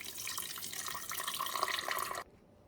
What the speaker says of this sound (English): Okay, I've got my water poured in.